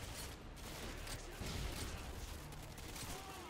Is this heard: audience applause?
no